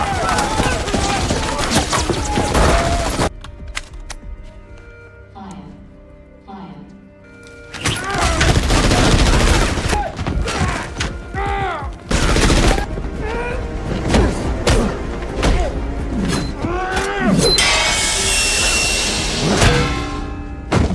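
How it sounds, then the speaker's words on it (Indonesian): Film gunfire as CIA agents shoot wildly, bursts of booming shots and thuds mixed with music and dramatic effects, with a narrator's voice talking over much of it. "CIA menyadari keberadaannya dan menembakinya secara membabi buta"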